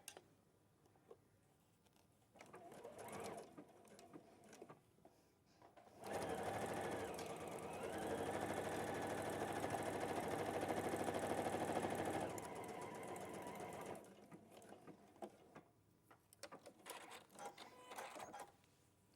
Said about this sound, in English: So when you sew it together, you're not going to get that wrinkle.